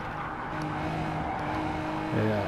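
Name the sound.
race cars racing in the video game Gran Turismo Sport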